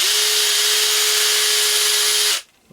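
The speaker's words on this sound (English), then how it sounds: "Onto the drill." A Makita DHP459 cordless combi drill runs at full speed with a steady, loud, high whine for over two seconds, then winds down abruptly to near silence.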